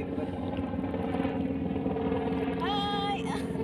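A helicopter flies overhead in the Philippines, producing a steady, throbbing rotor drone with a faint rising whine near the end. People talk beneath the continuous mechanical hum.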